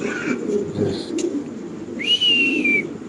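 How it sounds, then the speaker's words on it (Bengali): A cream bar female pigeon coos softly and low, close by, with a brief high whistle-like call rising over the cooing near the end. "ক্রিম বার একটা মাদি কবুতর"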